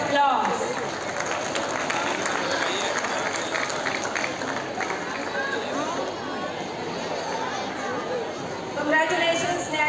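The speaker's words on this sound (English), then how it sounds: "Please give him a big round of applause." Applause for a student at a school award ceremony, a crowd clapping steadily while children chatter and call out loudly in the background.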